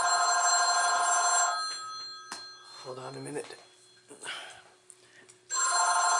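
A telephone rings during an interview, an electronic bell trilling at the start and again at the end, with a voice speaking briefly between the rings.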